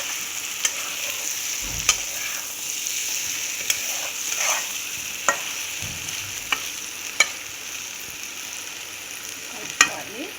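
Egg masala with boiled eggs being stirred in a frying pan: a steady background sizzle with a series of sharp spoon scrapes and taps at irregular intervals, no voices.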